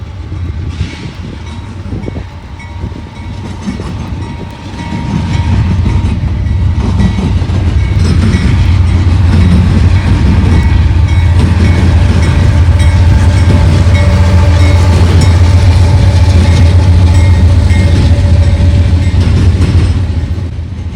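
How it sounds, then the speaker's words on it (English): CSX I-158, an eastbound intermodal freight train on the Willard subdivision, rolls past with a steady low rumble and rail clatter that swells after a few seconds and holds close and loud to the end. "an eastbound intermodal train, CSX I-158, just starting out on its daily journey"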